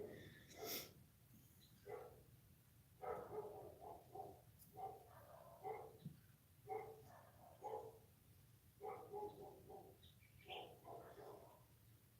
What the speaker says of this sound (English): All the neighborhood dogs are barking right now.